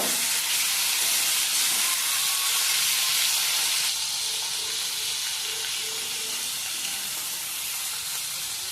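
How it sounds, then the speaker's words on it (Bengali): Chopped tomato and onion frying together in a pan for a Bengali potato fish curry, a loud continuous steamy hiss and sizzle that eases slightly midway, with no voices. "টমেটো আর পেঁয়াজ একসাথে ভেজে নেব।"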